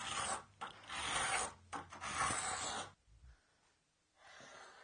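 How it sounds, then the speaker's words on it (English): A spokeshave smooths rough bandsaw-cut wood edges, making several close, raspy shaving strokes with brief pauses between them, then a quieter stretch with one lighter pass at the end. "I'll use a spoke shave to clean up any of the rough edges left behind from the bandsaw."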